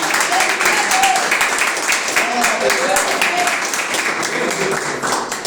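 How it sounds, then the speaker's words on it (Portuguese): Steady broadband crowd clapping at a church service fills the whole stretch, dense and continuous, with faint voices and cheers mixed in underneath. "Salva de palmas para Jesus."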